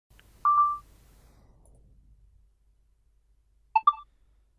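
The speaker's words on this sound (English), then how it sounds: "These sound notifications are very cute and give you precisely the idea of when your recording starts or stops." The Loom screen recorder plays soft notification chimes marking recording start or stop: one short clear tone, a quiet pause, then a quick two-note chime, crisp and close in near silence.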